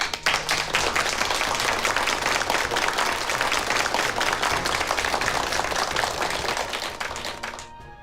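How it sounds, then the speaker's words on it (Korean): Dense, sustained applause from a church congregation, loud and steady throughout before tapering slightly at the end. "박수로 환영합시다"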